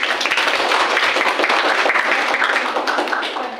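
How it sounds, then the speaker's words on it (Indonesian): Steady crowd applause fills a student election campaign rally for a university president and vice-president ticket, dense and loud clapping sustained throughout before tapering slightly at the end. "Tepuk tangan untuk kita semua,"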